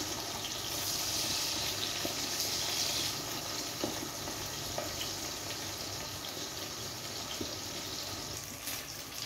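Eggplant fries in a generous amount of oil, giving a steady, dense hiss and crackle that continues evenly with a few faint clinks, and no talking over it.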